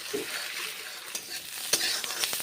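Eggs frying in a pan, a soft continuous sizzle with a few light scraping clicks, fairly quiet and with no voices.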